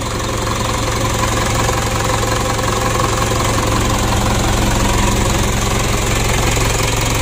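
Car engine idling steadily just after an engine overhaul, a continuous low rumble with a faint rhythmic knock running through it, close and unbroken, with no talking.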